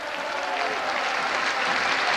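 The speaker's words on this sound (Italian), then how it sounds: "Gli applausi del pubblico" Applause from a basketball arena crowd during a tense Serie A1 game between Roseto and Montecatini, a steady dense wash of clapping lasting about two seconds with no voice on top.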